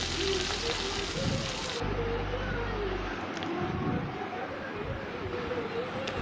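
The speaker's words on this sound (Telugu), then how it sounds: "సన్నగా కట్ చేసి పెట్టుకున్న ఉల్లిపాయ ముక్కలు ఇవన్నీ వేసుకుని బాగా వేయించుకోవాలి" Sliced onions and curry leaves frying in a pan for butter chicken fry, a dense steady sizzle close by that settles slightly quieter partway through, with a hum underneath.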